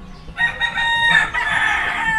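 A rooster on a rooftop game farm lets out a single loud, close crow, a bright stretched call lasting almost two seconds, with no talk.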